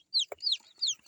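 Elba chickens and chicks in a simple brooding coop: a quick run of high, close clucks and peeps, three or four bright chirpy calls within about a second, with no talk.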